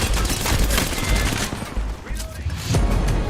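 Dense bursts of rapid gunfire from the battle royale game Apex Legends rattle loud and close with booming low thuds, almost unbroken throughout, while a voice may be faintly present underneath.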